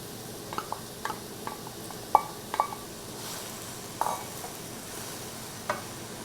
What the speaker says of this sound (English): I'm going to go ahead and add in our mushrooms